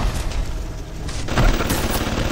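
Gunfire from a weapon in the shooter game BioShock, loud rapid bursts of shots in close succession that swell into a heavier blast near the middle.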